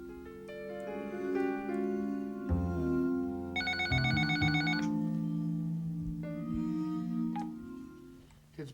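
A telephone rings in a television studio, a faint tonal ring pattern mixed with a bright warbling burst that runs among steady background tones for several seconds.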